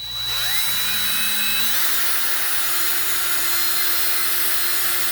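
A power drill whirs continuously, its motor pitch rising as it spins up, then holding a steady, loud whine throughout.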